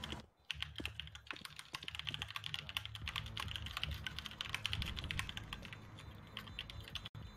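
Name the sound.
typing on a computer keyboard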